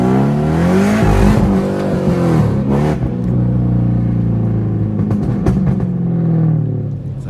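A Cadillac CTS-V makes a quick full-throttle pull, its engine roaring loud and close as revs climb, drop through a gear change, and rise again in a sustained run.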